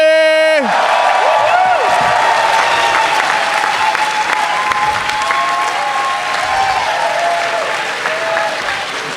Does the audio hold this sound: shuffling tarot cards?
no